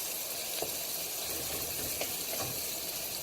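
Peppered bacon frying in a pan for spaghetti alla carbonara: a continuous close, hissing sizzle with a few soft pops and stirring ticks, no talking.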